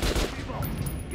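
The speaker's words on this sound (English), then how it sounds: "Now shoot the armored dummy." Rapid bursts of gunfire in Metro Last Light strike an armored target dummy on a practice range, dense and loud, overlapping with game audio for about a second.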